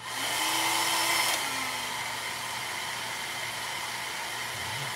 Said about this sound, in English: let me hit that with the blow dryer again.